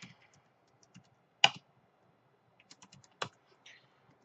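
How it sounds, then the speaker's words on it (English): Someone types on a computer keyboard, giving sparse, quiet key clicks with two sharper, louder keystrokes standing out among faint taps in a silent room. "So let's type in some text."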